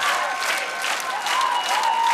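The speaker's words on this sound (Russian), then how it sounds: "давайте искупаем в аплодисментах этих волнующихся, красивых двух очаровательнейших девушек." Studio audience applause after a singing duo's performance on a televised talent show, a dense, steady wash of clapping that stays loud and even throughout with no voices above it.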